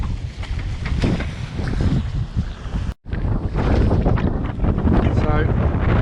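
Strong offshore wind buffets a Neel 51 sailboat at sea between Sardinia and Mahon, loud gusty roaring rumble against the microphone mixed with water rush, a brief cut midway, and a voice speaking.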